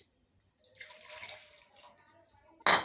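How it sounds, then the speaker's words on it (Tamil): Water poured from a cup into a cooking pan for vegetable semiya upma, a faint soft splash and trickle lasting about two seconds, then a brief louder burst of water at the end. "தண்ணி ஊற்றிக்கலாங்க"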